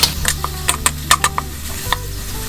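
Minced pork stir-fries with a little water in a pan, loud close sizzling under sharp, rhythmic scrapes and clinks of a spatula against the pan.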